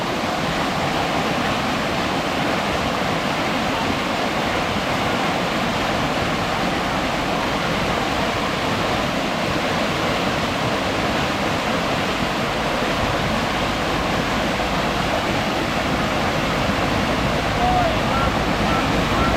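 Steady rushing water pours and splashes continuously at close range, a broad even roar with no pauses.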